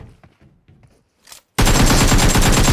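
Gunfire in the mobile battle royale game PUBG Mobile starts abruptly after a few faint sounds, a loud, dense stream of shots that stays heavy to the end.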